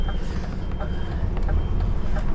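An HGV truck reverses with its warning beeper sounding in regular pulses over a low diesel engine rumble, the beeps fairly clear against the steady idle.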